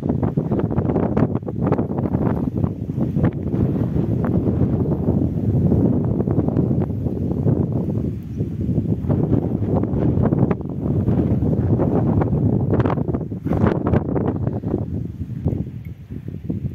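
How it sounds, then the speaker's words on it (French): Strong wind on a volcanic mountain buffets the microphone in a steady, loud, rumbling roar that rises and falls in gusts, with no other sounds over it. "il y a du vent."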